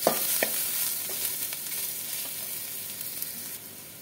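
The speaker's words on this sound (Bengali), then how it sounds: "পেঁয়াজটা ভাজা ভাজা হচ্ছে" Chopped onion sizzles in a frying pan, a dense steady hiss with occasional pops and a stirring scrape near the start, close up and without talk.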